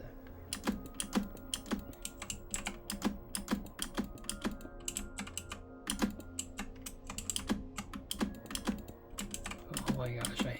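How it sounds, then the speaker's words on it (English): A clicky computer keyboard is typed on in quick, uneven bursts of sharp keystrokes, close and fairly quiet, with brief pauses between runs. "Oh my gosh, I hate my clicky keyboard so much."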